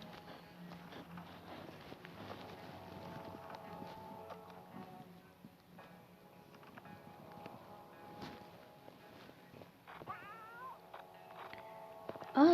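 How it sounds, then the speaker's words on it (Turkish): A cat meows a few times, fairly faint, over low background noise and light rustling. "kedi geldi."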